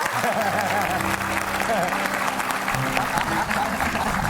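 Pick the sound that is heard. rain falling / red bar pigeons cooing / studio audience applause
studio audience applause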